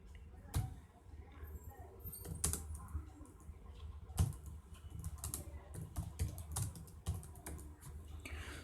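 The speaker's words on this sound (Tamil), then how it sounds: "ஸோ இப்போ வந்து டோன்ட் டிலீட் திஸ் கோடுன்னு டைப் பண்ணுவேன்" Someone types a code comment on a computer keyboard, producing a steady run of close, crisp key clicks with irregular rhythm and a few louder taps, with no talking over it.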